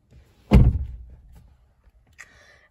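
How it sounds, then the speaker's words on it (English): The door of a GWM P-Series pickup swings shut with a single solid, close thunk that fades quickly, followed by a faint click, with no talking. "Shut the door."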